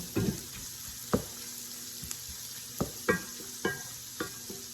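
Shrimp sizzling in a hot pan, a steady frying hiss broken by several sharp scrapes and knocks from stirring and spreading them out, close and moderately loud with no talking.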